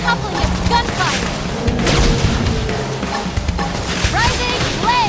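Gunfire rattles during a Xenoblade Chronicles X battle, with bursts of shots, booms and impact effects under continuous game music and character voices.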